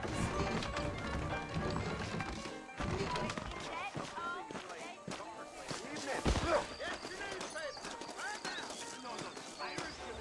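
Hooves clip-clop in an uneven rhythm in Red Dead Redemption gameplay, alongside game sounds, with a voice talking over the steady footfalls.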